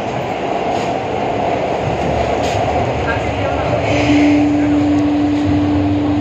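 Kolkata Metro train running through the tunnel beneath the Ganges, a loud steady rumble of wheels and carriage noise with a rising sustained whine midway, heard from inside the car.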